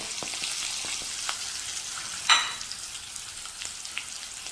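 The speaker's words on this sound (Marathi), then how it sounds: "आता हे पुन्हा मी परतून घेते चांगल्या गॅसची फ्लेम" Green chilies with coriander powder, turmeric, red chili powder, fennel powder and salt sauté in oil over a low flame, a soft steady sizzle with scattered ticks and one sharper scrape midway.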